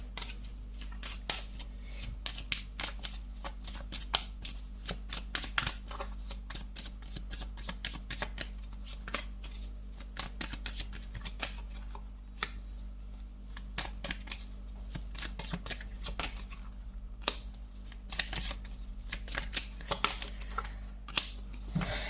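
A tarot deck being shuffled close by, a long run of quick card riffles and flicks with crisp irregular snaps and no talk over it.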